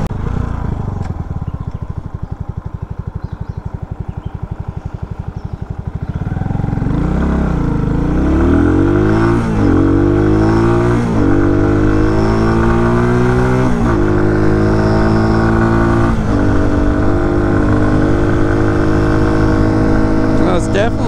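An RPS Condor 150cc Grom clone motorcycle engine idles, then revs up hard through a series of rising gear pulls toward top speed, loud and close. The whine stays sustained, with a voice talking over it.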